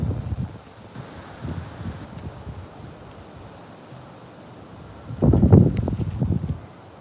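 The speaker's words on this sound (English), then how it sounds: "it is windy out here" Wind gusts buffet the microphone outdoors, rumbling and rushing in bursts, loudest near the end.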